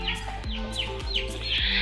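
Chickens kept in a yard cluck steadily and close by, a run of short repeated clucks in a loose rhythm with faint chirps among them and no talk.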